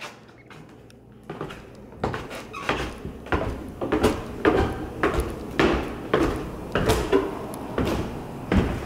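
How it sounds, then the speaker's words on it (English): A house door leading to the garage being worked open and shut, giving a run of repeated knocks, clunks and squeaky latch sounds at a steady rhythm, fairly close, with no talking. "This is the door to the garage."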